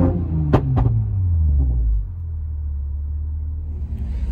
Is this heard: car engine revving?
yes